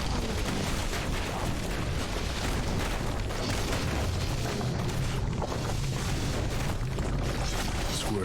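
A turret in the game Bastion fires a steady barrage of explosive booms. The blasts pile into a continuous rumbling, crackling battle din that keeps up throughout.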